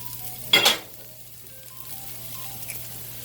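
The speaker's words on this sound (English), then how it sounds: "So I'm gonna go ahead and drop those mushrooms in that pan." Mushrooms hit a hot skillet with a sudden loud hiss that quickly settles into a quiet, steady sizzle, heard close with no talk.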